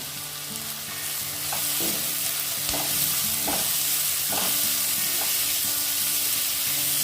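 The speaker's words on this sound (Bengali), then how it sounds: "খুব বেশি ভাজবো না, হালকা করে একটু ভেজে নেব" Chopped capsicum fries lightly in a pan for a paneer paratha filling, giving a steady close sizzle with a few sharp spatula scrapes and taps spaced through the stir, no voices.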